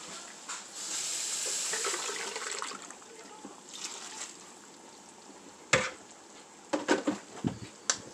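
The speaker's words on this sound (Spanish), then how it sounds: "Voy a enjuagar el vaso con poquita agua." Water runs as a drinking glass is rinsed with a small amount of water in a home kitchen. A fairly soft splashing flow rises and falls, followed by a few sharper splashes and knocks near the end.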